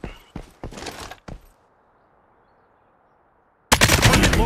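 Gunfire in the video game Lost Light: several loud rapid bursts close together, a pause of near silence, then a sustained heavy burst of automatic fire.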